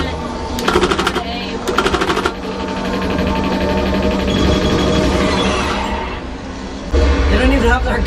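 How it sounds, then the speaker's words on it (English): Rapid bursts of machine-gun fire from the arcade shooter Let's Go Jungle, two short rattling volleys early on, then a dense, continuous wash of game effects and music with a loud burst near the end. "They don't even have their guns, but we're shooting with their guns."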